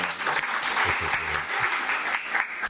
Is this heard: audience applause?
yes